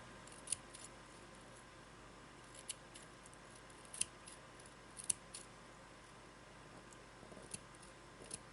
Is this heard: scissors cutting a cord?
yes